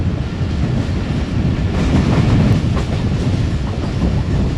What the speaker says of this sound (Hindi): दोस्तों ट्रेन हमारी पब्बी फॉरेस्ट में दाखिल हो चुकी है।